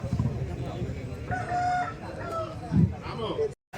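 Roosters crow at a Sankranti cockfight in a village, one drawn-out crow standing out over a busy, murmuring outdoor crowd.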